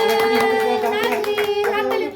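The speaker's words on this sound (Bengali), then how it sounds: "তুমি হাততালি দাও" Hand claps ring out at a child's third birthday at home, a string of rhythmic claps under strong, sustained singing voices.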